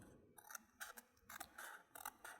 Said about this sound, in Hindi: कैंची की मदद से यहाँ से कटिंग करनी है इस तरह।